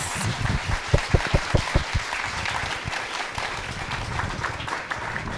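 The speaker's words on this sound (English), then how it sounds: "Can we give our panelists a round of applause?" An audience at a panel discussion on community resilience applauds the panelists, a steady round of clapping from a moderate-sized crowd with a few louder close claps early on.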